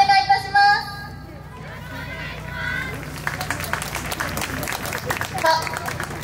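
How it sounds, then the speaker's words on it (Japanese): A crowd at the YOSAKOI Sasebo festival 2022 claps along in a steady rhythm, brisk and fairly loud, under a voice on the public address system and amid outdoor festival noise. "お手拍子、足拍子、お心拍子のほどよろしくお願いいたします"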